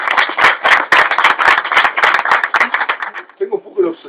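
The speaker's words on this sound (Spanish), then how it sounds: "un aplauso para Serrano." A small audience claps for Serrano in quick, close, fairly loud claps that thin out near the end, where a voice begins speaking.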